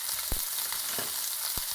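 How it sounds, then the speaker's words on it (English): Sun-dried tomatoes and artichokes sauté in a pan with a steady, moderate sizzle, punctuated by a few low knocks of stirring, no voices. "Give it a good stir and let it saute."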